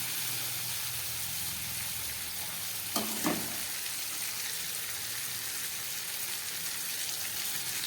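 Vegetables frying in a pan with cumin powder, a steady loud hiss of sizzling broken by two brief clatters near the middle.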